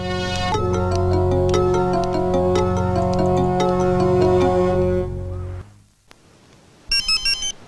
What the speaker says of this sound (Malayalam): നീ ഫോൺ എടുക്കണേ